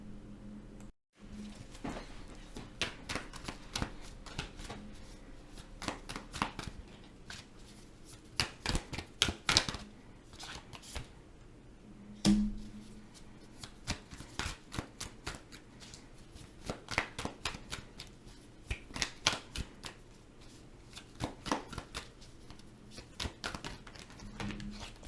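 Tarot cards are shuffled at close range for a general reading, a long run of crisp riffling clicks and flutters arriving in irregular bursts with brief pauses between them.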